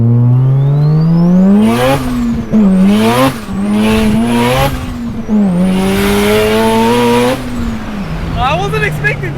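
Big-turbo bridgeport Mazda RX-7 with a 13B rotary engine accelerating hard, its rising buzzy wail climbing through several gear changes with brief dips between, loud and close, with excited voices shouting over it.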